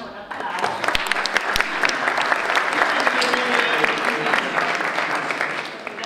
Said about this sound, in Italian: Antonella Sicari, a cui facciamo un applauso